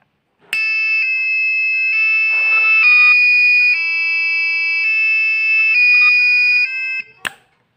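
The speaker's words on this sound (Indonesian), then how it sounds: "buzzer akan terus berbunyi dengan frekuensi dan durasi tertentu sesuai pemrograman" A loud electronic buzzer driven by an ATmega328P microcontroller, built as a railway station bell, sounds a steady high-pitched tone for about seven seconds, with small shifts in pitch, then cuts off with a click.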